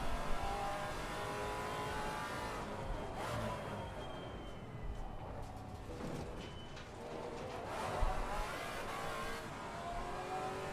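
A race car engine in Assetto Corsa revs and accelerates continuously, its pitch climbing and dropping through gear changes, with brief tyre squeal and no talk.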